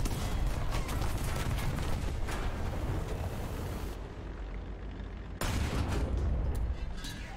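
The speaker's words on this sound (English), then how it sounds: "there's artillery" Loud, sustained artillery barrages in a tank video game, with dense overlapping booms and rumbling fire that briefly dips before surging back full and close.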